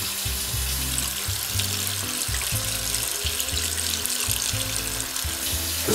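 Water runs steadily from a tap over a picture, a continuous close splashing rush with no pauses and no voices.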